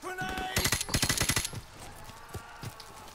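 Automatic gunfire in Call of Duty 4: Modern Warfare: a loud, rapid burst of about a dozen shots, then sparser, quieter single shots trailing off, with a brief voice at the start.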